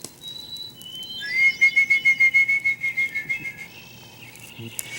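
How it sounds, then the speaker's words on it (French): Birdsong in a forest: a bird sings a clear, rapid series of about a dozen evenly paced whistled notes, fairly close and loud, with fainter chirps and soft ambience around it. "la seule chose qu'on entend, c'est le chant des oiseaux"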